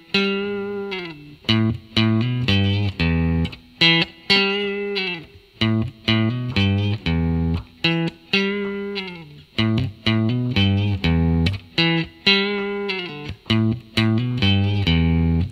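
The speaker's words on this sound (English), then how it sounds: "Now we're going to do the second guitar player's part." An electric guitar plays the second guitar part of a song, a repeated rhythm figure of bright, sustained chords and notes with short choppy breaks between phrases, heard alone and close.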